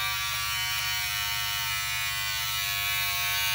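A new Wahl beard trimmer runs loudly and steadily, its close, continuous electric buzz holding an even level throughout with no talking.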